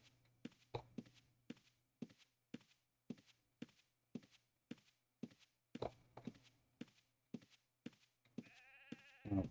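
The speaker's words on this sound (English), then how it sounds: "There's no cotton, but there's sheep, so I can shear them real quick." Sheep in the Ultima Online video game bleat near the end over a steady run of soft footsteps and thunks, with a clear, loud, wavering bleat closing the sequence; no talking.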